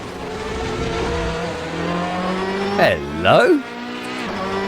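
Race car in the Assetto Corsa racing game, a steady engine drone with sharp revving sweeps as gears change near the end, under a brief spoken word.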